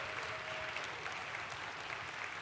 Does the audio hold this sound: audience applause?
yes